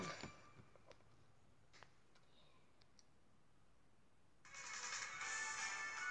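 A mobile phone ringtone breaks in after a few scattered soft clicks and rings out loud and bright as a steady, sustained electronic tone through the last part.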